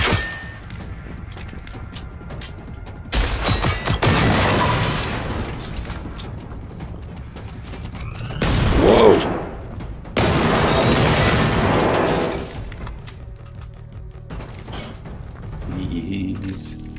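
Bursts of gunfire from weapons in the video game Generation Zero during co-op survival play, with sustained rapid volleys and heavy booms in a few long clusters separated by quieter stretches, with players occasionally talking over it.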